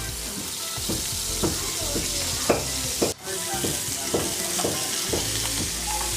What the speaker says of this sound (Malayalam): ഇവിടെ കുറുവ കടന്ന് പൊരിയാണ്. നന്നായിട്ട് പൊരിയട്ടെ.